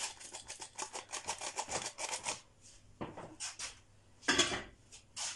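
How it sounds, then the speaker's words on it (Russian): Washed raisins being mixed with flour in a bowl, giving a string of soft scraping, rustling strokes in quick rhythm, close and fairly quiet, with a pause and a few louder scrapes near the end. "И все перемешиваю вот так хорошо."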